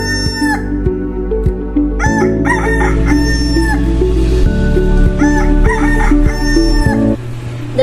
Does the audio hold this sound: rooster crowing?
yes